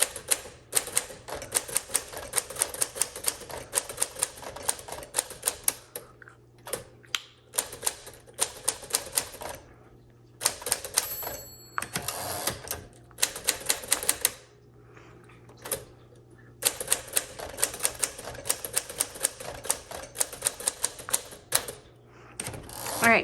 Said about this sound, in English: I cannot go quickly on this typewriter